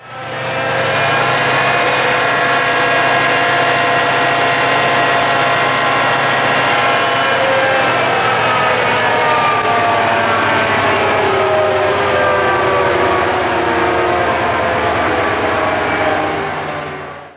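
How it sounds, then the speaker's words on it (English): A Class 68 diesel locomotive gives a continuous, heavy rumble with steady low drone and layered engine harmonics, loud and close throughout, with no voices. "the Class 68 and their rumbling sound quality"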